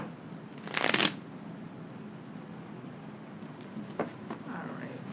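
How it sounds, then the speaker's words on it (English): Tarot cards being shuffled during a reading: a short, brisk riffle near the start, then a quiet room with a couple of faint soft card taps later. "One more shuffle."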